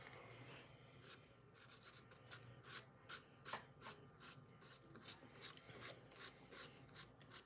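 The abrasive 120 grit side of a nail file rasps across a practice nail on a training hand in quick, rhythmic back-and-forth strokes, faint and close, with no voices.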